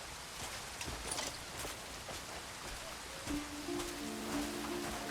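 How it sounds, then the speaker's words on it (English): Rain patters steadily in the video game Crimson Desert, a dense hiss of drops on surfaces, with faint footstep-like clops and a brief tonal game sound near the end. "I can't say a damn thing because of the rain."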